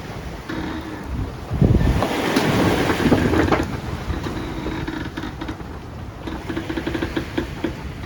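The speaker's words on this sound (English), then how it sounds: "the waves are bigger now, maybe 6 feet, 7 feet." Strong wind roars across the microphone while 6-to-7-foot waves slosh and break around a sailboat on an overnight open-sea passage from Nassau to Bimini among whitecaps. A loud gust builds in the middle, and there is no talking.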